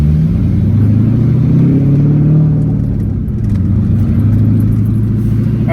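A 3V Mustang GT V8 fitted with stage two cams idles with a deep, loping, choppy rumble, steady and loud from close by, with no voices over it.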